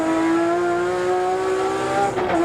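A Mitsubishi race car howls past at the 1989 Bathurst 1000, a steady high-revving engine drone with a rising pitch that shifts at the end, loud and close throughout.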